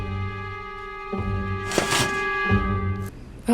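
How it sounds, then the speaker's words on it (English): A tension sound cue from The Sims video game, a short tonal musical sting rising over a steady sustained game music bed with a brief noisy swell in the middle, moderately loud with no talking. "that noise you just heard is your Sims character getting tense"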